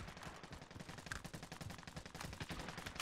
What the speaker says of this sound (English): They are shooting at you or?